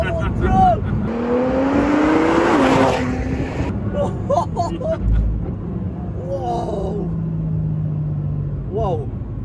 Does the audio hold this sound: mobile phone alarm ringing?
no